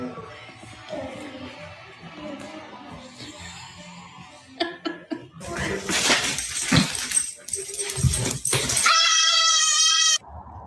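A dog whimpers and yelps in high, excited cries close by, with a donkey nearby, rising into loud, overlapping squeals and bursts; people react in the background.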